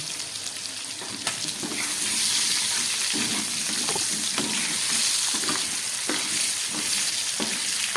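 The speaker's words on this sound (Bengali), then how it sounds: "আলুটা একটু ভাজা হোক আলুগুলো আমার ভাজা হয়ে গেছে" Potatoes frying in oil in a pan for a mushroom curry, a loud continuous sizzle with repeated scrapes and clatters of stirring throughout.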